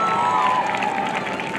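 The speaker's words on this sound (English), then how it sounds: "let's have another round of applause for the Tufts cheerleading seniors" Football stadium crowd at a Tufts home game against Middlebury cheers and applauds steadily, a broad, continuous roar of distant voices and clapping with no break over the short span.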